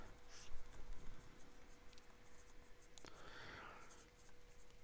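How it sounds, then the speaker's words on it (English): Faint, close scratching of a Scribo fountain pen with a medium 14-carat gold nib writing wet on paper, a soft continuous scrawl with a few small ticks. "this is a very wet writing pen"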